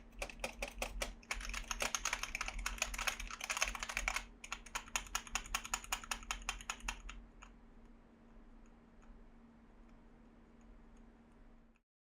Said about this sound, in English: it's time for a typing test to hear these switches in action